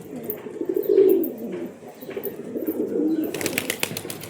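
Good-quality pet pigeons at a home coo in soft, overlapping low murmurs close by, ending with a brief burst of fluttering wings.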